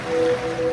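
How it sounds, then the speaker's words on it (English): Ocean waves wash in a continuous, soft broadband hiss, alone and fairly loud, as part of a radio advertisement for a scented product. "now you're drifting asleep to the scent and sound of waves"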